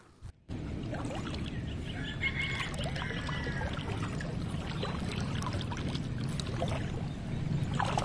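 Continuous churning and swishing of seawater close by as a push net is pushed through it, a steady wash with faint trickles over a constant low rumble, no voices.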